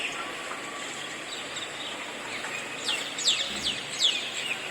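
Birds chirp in quick, bright bursts by a small water pond at a school campus, under a steady soft outdoor hiss. A few calls stand out near the end, faint to moderate and fairly distant.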